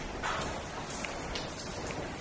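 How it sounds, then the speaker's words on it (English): Steady, faint hiss of heavy rain falling outside a sanatorium at night, a continuous wash of drops with no voices. "it's raining like crazy outside"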